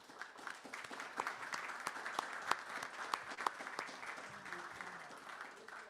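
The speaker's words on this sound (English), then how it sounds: "If you could please give me a warm round of applause welcoming" An audience at a Mencken Day event gives a warm round of applause welcoming Ed Larson; fairly soft, distant clapping with crisp individual claps standing out above a steady patter.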